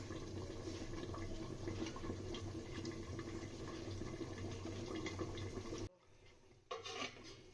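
Water runs steadily into a kadai, a cooking wok, during the making of a rohu fish curry, a continuous splashing pour that stops abruptly near the end and then gives a short final trickle.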